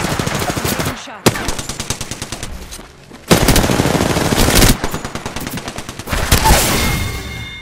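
Rapid automatic gunfire in the battle-royale shooter Apex Legends, bursts of loud close shots in fast rhythm broken by two short pauses, with sharp cracks and a dense crackling tail.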